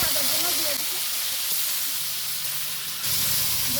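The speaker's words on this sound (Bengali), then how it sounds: "গোসটা ভাজার জন্য দিয়ে দিলাম" Chicken pieces frying in a pan for a chicken roast, giving off a loud, continuous broadband sizzle and hiss that holds steady throughout.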